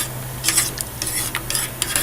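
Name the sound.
stuffed chicken frying and being flipped in a pan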